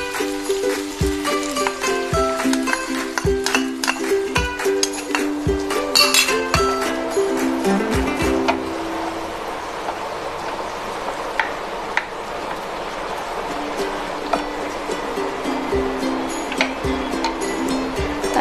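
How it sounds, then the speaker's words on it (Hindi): Manchurian mixture goes into a pan of stir-fried onions, with frequent sharp clinks of a spoon on the pan over a steady sizzle, and the clinking thins out as the frying continues. "सो अब मैं मिक्सचर डाल रही हूँ।"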